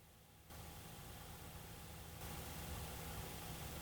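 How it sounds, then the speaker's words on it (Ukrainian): A laptop's cooling fan producing a steady, faint background whir and hiss that grows slightly louder partway through, with no talking. "а шум який на фоні, то був від ноутбука, від вентилятора на ноутбуці"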